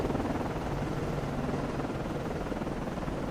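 Helicopter lifting off from a US Navy surface ship in the Cold Waters submarine game: a steady, loud rotor drone with dense low rumble that holds evenly throughout, with no talk.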